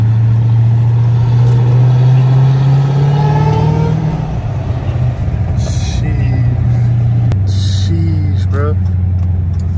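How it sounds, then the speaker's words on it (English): Dodge Hellcat Redeye V8 rumbling and revving nearby, a deep steady drone that shifts pitch as it accelerates, with voices talking over it. "This Hellcat sounds so good."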